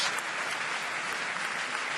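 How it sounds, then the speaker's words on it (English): A near-capacity crowd at the Stade de la Rabine applauds a rugby tackle in the Junior World Championship bronze final, a dense, steady wash of clapping heard close and loud throughout. "For that effort again, appreciated by the near capacity crowd here at the Stade de la Rabine"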